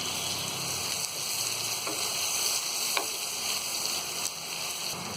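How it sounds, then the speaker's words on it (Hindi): Paneer fries in a pan over medium flame with a steady, moderate sizzle, close and even for several seconds, with a couple of soft clinks from turning or stirring. "मध्य फ्लेम पर रखकर हम पनीर को अच्छी तरह फ्राई कर लेंगे"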